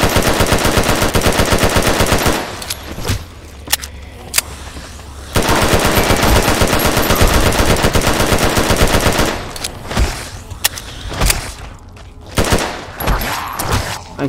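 Rapid automatic gunfire from the game Fallout New Vegas comes in loud bursts, with heavy stretches of fire broken by short gaps and a few isolated sharp shots.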